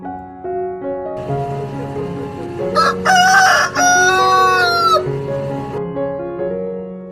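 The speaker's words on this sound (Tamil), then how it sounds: "சேவல்" A rooster lets out one loud, drawn-out cock-a-doodle-doo in the middle, set against a continuous bed of melodic background music.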